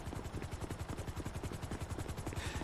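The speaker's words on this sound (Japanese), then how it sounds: "ヘリ見える、ヘリ見える。" Helicopter in GTA, its rotor thudding in a fast, even rhythm, loud and close throughout the short stretch with almost no talk.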